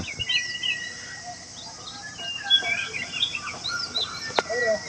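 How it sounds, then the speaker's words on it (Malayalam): Several birds chirp and call in the distance at the Pampa KSRTC bus stand in Kerala, scattered twittering notes over a quiet outdoor background. "ഏതൊക്കെയോ കിളികൾ കിടന്ന് കരയുന്നു."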